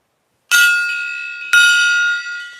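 A gong struck twice, about a second apart, each hit ringing out loud and close with a long shimmering metallic sustain and no voices.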